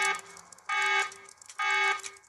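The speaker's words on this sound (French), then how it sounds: "Et l'alarme, elle se coupe juste derrière cette porte. Donc on va ouvrir ici. L'alarme va sonner." An alarm blares inside the zombie survival video game Last Day on Earth. It gives three loud, bright electronic siren pulses, each with a short gap, over a low ambient game hum.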